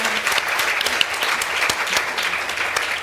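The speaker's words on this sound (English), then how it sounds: "I think that deserves a clap" An audience claps after an inspirational remark at a panel discussion launching a women's cycling campaign, giving steady, dense applause of many hands throughout, close and fairly loud with no talk over it.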